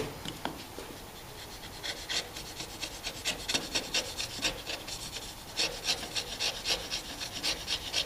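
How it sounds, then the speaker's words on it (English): Repeated rasping scrapes as a chisel pares a high spot off a wooden half lap joint, a steady series of short strokes close up, alone and fairly loud throughout. "we're using the chisel just to take that little high spot off"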